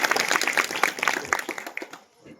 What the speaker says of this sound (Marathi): टाळी वाजवा त्यांनी.